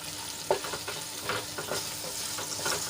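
Garlic frying in oil for a Kathiyawadi garlic curry made without onion or tomato, a steady close sizzle with a few stirring scrapes and clinks across the pan, no talking.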